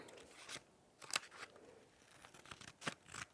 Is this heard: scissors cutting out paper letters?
yes